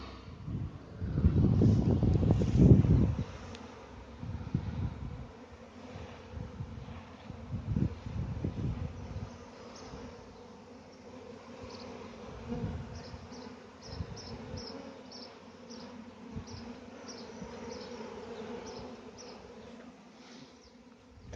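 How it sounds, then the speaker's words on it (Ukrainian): A large honeybee swarm hums steadily while the bees crawl into a hive box outdoors, a dense continuous drone with louder bursts early on and light wind in the background. "Ще почекаємо, тут, поки бджола залізе"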